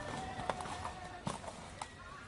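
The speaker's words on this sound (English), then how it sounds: "Later, Mulan walks through the market with her new horse." Horse hooves clip-clopping at a walking pace through a market, with a few distinct, moderately close hoof strikes standing out over a low, busy background.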